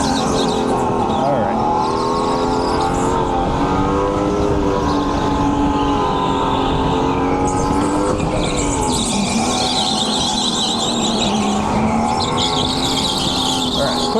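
Racing kart engine held at speed on a track during a winter league heat, a high, strained buzz whose pitch rises and dips with throttle and cornering, loud and continuous at close range.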